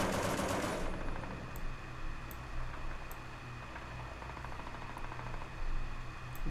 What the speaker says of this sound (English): I don't know who's firing at me